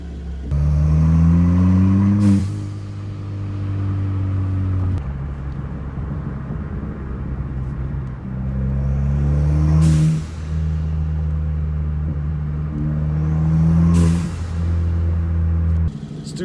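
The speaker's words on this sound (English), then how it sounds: "you can hear the sound of the exhaust plus the blow-off valve spacer" A Ford Fiesta ST engine revs hard several times, the exhaust roaring and rumbling, with sharp hissing bursts from a blow-off valve with a Boomba spacer between pulls.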